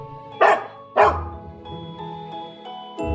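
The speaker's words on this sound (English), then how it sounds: "D is for dog." A dog barks twice in quick succession, sharp and close, over a light children's alphabet song backing, with a softer yip near the end.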